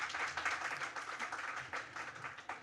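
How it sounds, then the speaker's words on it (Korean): Audience applause welcoming a team leader from the Korea Health Promotion Institute at a Korean panel forum on addiction, a steady patter of many hands clapping that stays moderately loud through the stretch. "예, 박수로 맞아주시죠."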